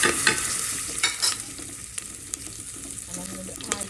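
Mustard seeds and curry leaves spluttering in hot oil for Andhra-style sambar, a close, steady crackle and sizzle with scattered sharp pops and no talking.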